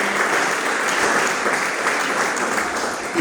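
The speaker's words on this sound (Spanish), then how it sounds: "denle un fuerte aplauso a Jesucristo." A church congregation breaks into loud, sustained applause for Jesus Christ during a sermon, a dense, steady wash of clapping that carries on evenly throughout with no voice rising above it.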